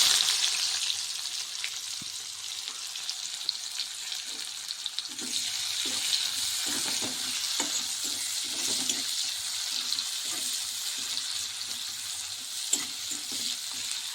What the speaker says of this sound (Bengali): পেঁয়াজটাকে ভালো করে ফ্রাই করে নিতে হবে